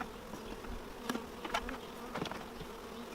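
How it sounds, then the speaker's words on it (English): Honey bees hum as a hive is split, frames being shaken out; a steady, fairly quiet swarm drone runs throughout with a few brief louder thumps and bursts of buzzing nearby. "So we'll shake those bees off."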